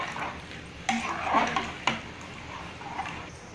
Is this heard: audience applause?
no